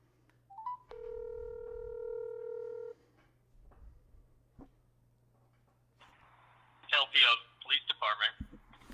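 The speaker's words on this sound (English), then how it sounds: "Let's see if we can get the sergeant on the phone." A telephone call: a short dial tone, a quick run of dialing beeps, a pause, then a ring tone sounding in bursts near the end.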